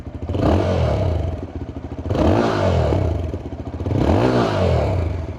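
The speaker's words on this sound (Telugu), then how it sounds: "సో ఇప్పుడు ఈ బైక్ యొక్క ఎగ్జాస్ట్ సౌండ్ అనేది వినిపిస్తాను. So let me rev it up." A 2026 Yezdi Scrambler motorcycle with a single exhaust revs three times in close succession, each throttle blip rising sharply then settling back to a lumpy idle, loud and near with no talking.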